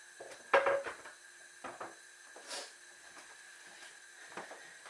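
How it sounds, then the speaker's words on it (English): Chopped red onion stirred around in oil in a cooking pan for special fried rice: quiet, scattered utensil clinks and scrapes against the pan, with soft pauses between strokes. "Now you just basically move it around so all the onion is coated in the oil, and you just cook that off."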